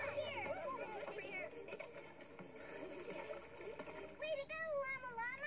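Cartoon water splashing as characters wash their faces, heard under a continuous bed of music and voices, with brighter splashy bursts near the end.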